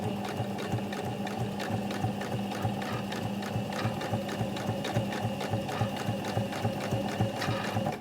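A sewing machine runs steadily for several seconds stitching a twin needle hem, its needle mechanism producing a fast, even rhythmic clatter at close range with no talking.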